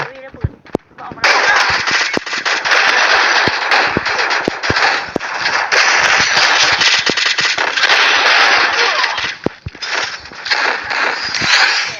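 Dense bursts of loud explosions and rapid gunfire-like cracks from a video game, with sharp pops and a sustained roaring blast.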